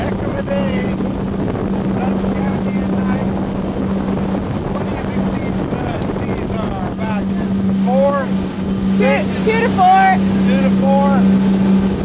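A steady motorboat engine on a 47-foot boat at sea drones loudly and continuously, with wind buffeting the microphone and people talking and calling out over it.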